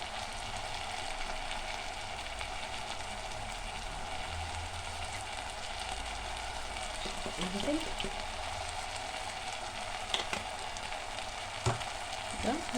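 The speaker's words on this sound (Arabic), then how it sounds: "ده هنشوح فيه كويس قوي بحيث ان هو ما يبقاش فيه اي سوائل خالص" Freekeh stuffing for duck fries in a pan with a continuous moderate sizzle until its liquid cooks off, with occasional stirring clicks and scrapes and a faint voice in the background.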